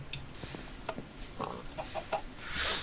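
Chickens cluck in the video game Minecraft, with short, scattered, faint clucks over a soft steady background hiss and no talking.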